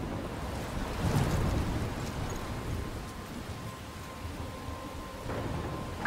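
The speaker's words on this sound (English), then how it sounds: "I'm trapped in a storm?" A storm in the video game Life Is Strange, with steady roaring wind and crashing waves by a coastal lighthouse, a dense, continuous rumble that swells slightly at moments.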